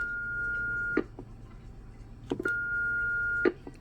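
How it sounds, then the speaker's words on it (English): Two long steady electronic roger beep tones from a President Lincoln 2 Plus CB radio (10-12 meter), each about a second, ending in a short click burst, with a brief pause between them; clear and close, no talking. "So let's see how this Roger beep sounds."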